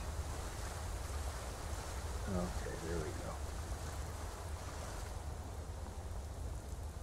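Character wading through water in the Skyrim video game, a continuous wash of sloshing, surf-like water noise at a steady level, with a person briefly speaking over it partway through.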